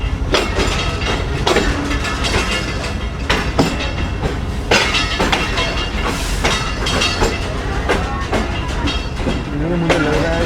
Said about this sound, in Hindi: ये 14 नॉन अवाम एक्सप्रेस है जो कि हमें मिली है कानपुर रेलवे स्टेशन में